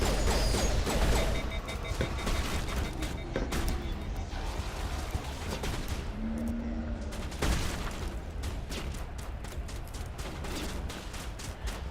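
Gunfire in a Mass Effect battle from shooting colonists, dense bursts of shots and booms crowding the scene continuously, loud and busy with mechanical clatter.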